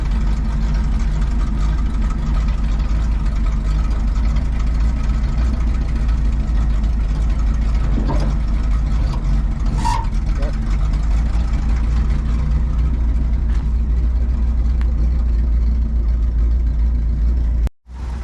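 A heavy International COE truck engine idles steadily with a low, even rumble, then cuts off abruptly at the very end.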